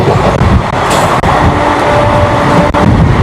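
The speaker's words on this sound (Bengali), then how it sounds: "বন্ধুরা সাঁতরাগাছি থেকে ছাড়ার পরেই একদম ট্রেন নিজের স্পিড ধরে নিয়েছে।" An express train runs at around 110 km/h on an open line, making a loud continuous rumble inside the carriage with periodic wheel clacks over the rail joints and a brief high squeal.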